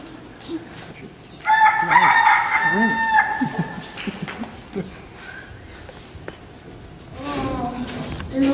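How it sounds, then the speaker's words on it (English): Roosters crowing loudly and close, one long crow followed by more calls and clucks, another rooster crowing again near the end, no talk. "Oh, stupid roosters."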